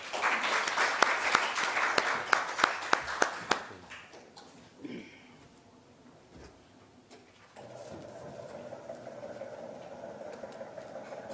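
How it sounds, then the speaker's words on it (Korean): An audience at a Korean lecture forum bursts into warm applause for a guest speaker. The clapping is dense and lively at first, then thins and dies away, leaving a quiet hall with a low hum and faint room noise. "열렬한 박수로 환영해 주시면 감사하겠습니다"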